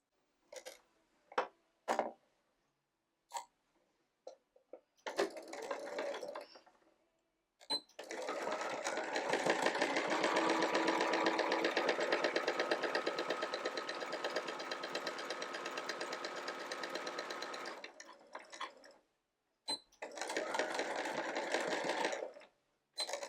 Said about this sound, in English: we are going to sew right across that line